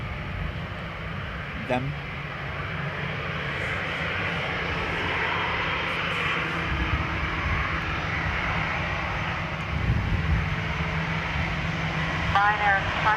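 An airliner departs Dublin Airport on a windy day, its jet roar a broad, steady rumble across the whole stretch, heard at some distance, while a person talks briefly over it.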